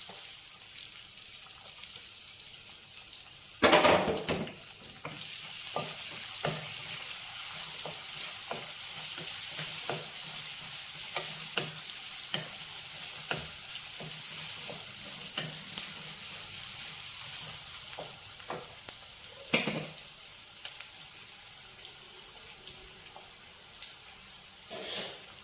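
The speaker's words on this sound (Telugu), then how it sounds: "ఉల్లిపాయ కొంచెం వేగాలండి." Onion and green chili frying in a pan, a steady loud sizzle with occasional stirring clacks and a sharper scrape near the start, close up and without talk.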